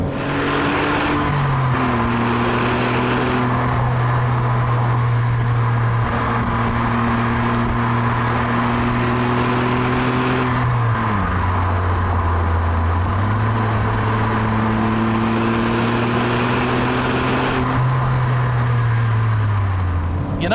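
Smart Roadster Brabus engine while driving, a buzzy small engine rising in pitch through the gears with clear drops at each shift, several gear changes over steady road noise, heard from inside the cabin.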